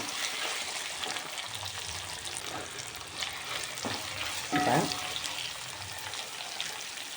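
Carrot pieces drop into a pan of vegetables already frying for a traditional Marathi Mahalaxmi offering dish, with a steady close sizzle throughout and a brief louder splash of hissing midway, and no voices.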